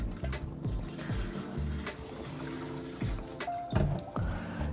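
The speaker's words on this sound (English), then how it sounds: "you just simply take your antifreeze and you just pour it down your P-traps" Antifreeze poured into a travel trailer sink drain P-trap during winterizing, faint gurgling pours and trickles in several short bursts with small clunks, no talk.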